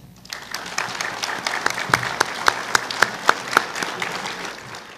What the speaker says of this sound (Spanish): Agradecemos con un fuerte aplauso a nuestras distinguidas personalidades del Presidium